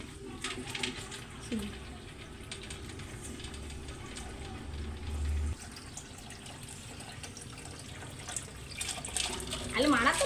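A motor pumps water into a home fish tank, producing a steady running-water flow with a low mechanical hum while voices talk over it.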